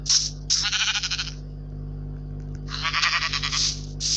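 Sheep in a survival video game give loud, close bleats, two long wavering calls separated by a pause and cut by short clipped bursts, over a constant low hum.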